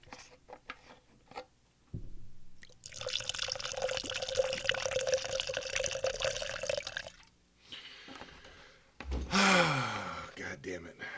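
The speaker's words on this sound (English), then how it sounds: "I'll pour the drink by the microphone so you guys can hear it" A drink is poured right next to the microphone in a sustained splashing, gurgling stream lasting several seconds, framed by breathy gasps and a sigh before and after.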